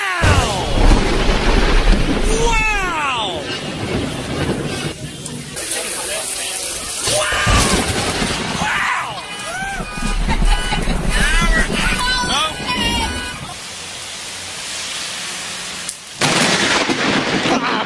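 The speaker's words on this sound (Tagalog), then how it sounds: "Ang kidlat naman na ito ay malapit na sa mga tao." Thunder from a nearby lightning strike rolls and booms in repeated deep bursts amid rain, with excited voices and exclamations mixed throughout the loud, chaotic scene.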